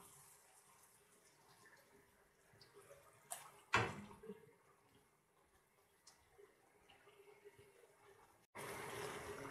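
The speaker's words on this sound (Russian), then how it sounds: "Берем опять же кипяченую горячую воду." Hot boiled water poured from above into a kazan of Tatar-style pasta on a stovetop, arriving as a brief splash midway and then a loud, steady, close rush of pouring at the end.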